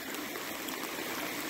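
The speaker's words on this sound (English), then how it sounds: "Look at how gorgeous this water carving its way" Water of a small winter marsh stream trickles through ice and sleet, a steady broadband babble that runs on continuously without a break.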